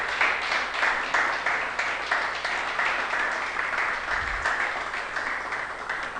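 A church congregation at an anniversary service gives a steady round of applause, with rhythmic clapping sustained throughout and moderately loud.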